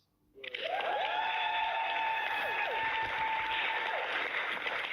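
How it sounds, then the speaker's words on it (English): An audience bursts into sustained applause and cheering that keeps up steadily for several seconds, with music tones ringing underneath. "get a huge round of applause?"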